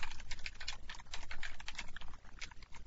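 Code being typed on a computer keyboard during a programming lesson: rapid, close, uneven key clicks with brief pauses, heard alone without speech.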